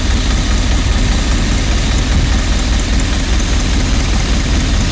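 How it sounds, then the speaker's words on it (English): Rolls Royce Silver Spirit engine idling with a slight misfire, a loud, close, steady low rumble and vibration throughout, with no one talking. "Still misfiring ever so slightly."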